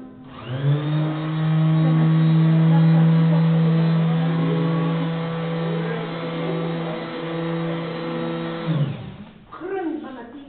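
A power sanding or polishing machine whirs at a steady high pitch for several seconds, then spins down, with voices talking faintly underneath and after.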